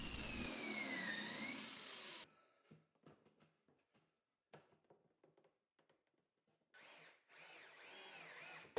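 A power drill whines at high speed driving pocket screws into a cabinet, with a long opening burst, scattered clunks and handling noises, then a second shorter run near the end, close and loud.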